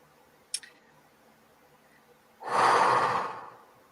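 A single deep breath, a long airy exhale swelling loudly near the microphone after a brief soft click, with quiet stillness around it.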